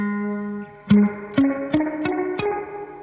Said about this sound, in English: So the X knob gives it more boing or spring. Sounds like there's a bit of shimmer on there too.